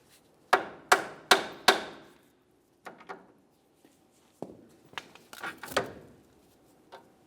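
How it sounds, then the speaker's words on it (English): A hammer strikes a steel steering knuckle on a 1998-2011 Ford Ranger to jar loose the outer tie rod end: four loud ringing metallic blows in quick succession, then a pause and a few lighter, scattered taps nearby. "cause some vibration on the steering knuckle and separate the outer tie rod end from the knuckle"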